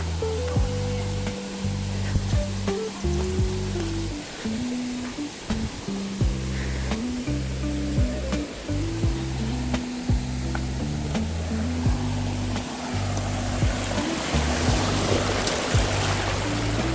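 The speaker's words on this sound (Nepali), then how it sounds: "1 घन्टा हिँडाइमा बल्ल सक्ति खरायो झर्ना" Saktikhor waterfall in Chitwan rushes in a steady, loud, continuous roar, with music playing over it throughout.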